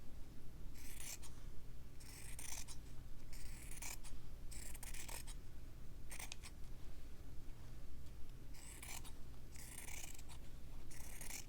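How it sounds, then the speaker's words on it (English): Scissors snip through fabric to cut out a shape, a run of soft, close rasping cuts in several bursts with short pauses, over a quiet steady background hum. "And so I'll cut this out."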